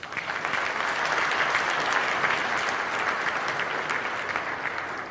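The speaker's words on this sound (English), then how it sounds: "Can we give that a round of applause?" A forum audience in Accra, Ghana gives a sustained round of applause, dense steady clapping from a large crowd filling the room, with no voices above it.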